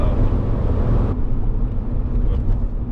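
Engine of a 1985 Porsche 928 S Euro, a V8 coupe, rumbling steadily from inside the cabin while driving, with a loud continuous low drone that drops in pitch and brightness partway through, as if after a gear change.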